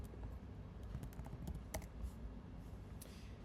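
Soft keystrokes tap on a computer keyboard in a scattered, uneven patter with a few sharper clicks, faint and close against a quiet room background.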